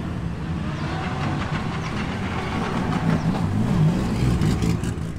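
Car rolling past at an outdoor car show, a low rumbling engine drone that grows slightly louder as it passes, with a faint clatter on top.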